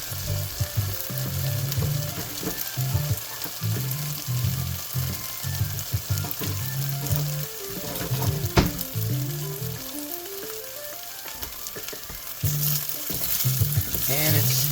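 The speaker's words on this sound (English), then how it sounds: "gonna let them do that sizzle for, I don't know, a wee bit" Instant ramen noodles sizzle and crackle steadily in oil in a pan, a close, continuous fry with a low hum underneath and occasional scraping of a utensil.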